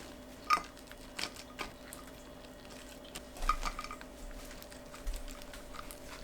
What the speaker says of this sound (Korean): 말린 방울토마토 넣고 버무립니다. 통에 담아주세요.